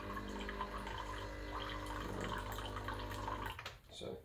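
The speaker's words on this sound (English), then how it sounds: "You can also grab hot water from the machine by turning on the hot water tap" Hot water streaming from the tap of a Breville Barista Pro BES878 espresso machine into a cup, a steady hissing pour that stops abruptly near the end.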